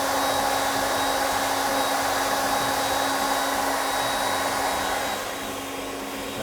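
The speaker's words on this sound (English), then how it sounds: "raising up the router bit to take off" Router with its bit raised shaping a guitar headstock, a loud, steady, high-speed whir held throughout with no pauses, easing slightly near the end.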